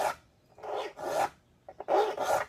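A hand file rasps across the teeth of a rip saw in short, even strokes, five or so close scraping passes with brief pauses between them.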